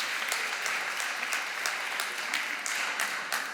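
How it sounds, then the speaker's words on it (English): A conference audience claps steadily, a dense and even burst of applause filling the room with no voices over it. "So a round of applause, please, for Fabio and Till."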